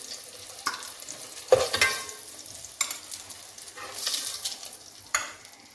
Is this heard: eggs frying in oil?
yes